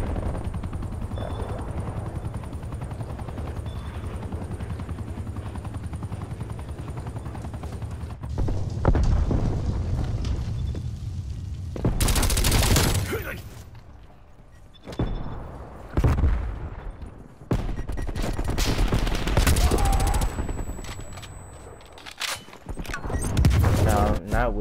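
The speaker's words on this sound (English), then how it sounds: "Enemy napalm strike incoming." A napalm strike with explosions and gunfire in a video game. Loud booms and bursts of fire come in separate waves, with quieter rumbling gaps between them.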